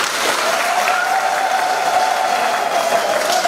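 A crowd at an outdoor gathering gives a member of parliament a steady, loud wash of applause, with a faint sustained tone running under the clapping.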